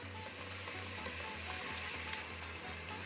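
Chopped onion and crushed garlic fry in half a cup of hot cooking oil, a steady close sizzle holding at an even level throughout with no talking.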